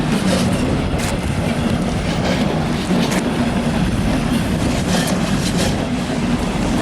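A regional RE passenger train pulls in near Frankfurt, Germany, a steady loud rumble of wheels and running gear with faint rail clatter, close by and continuous, no voices.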